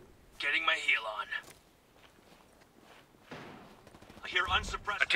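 Bursts of unsuppressed gunfire from a Ghost Recon Breakpoint PvP match, a cluster early on and another near the end, mixed with game voice lines and footsteps between them.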